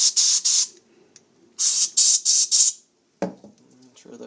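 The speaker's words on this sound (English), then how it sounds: "put compressed air. Compressed air in both holes." Compressed air blasts through the carburetor holes of a 1985 Honda 7.5hp outboard, loud close hissing bursts in two groups of short puffs, followed by quieter handling noises.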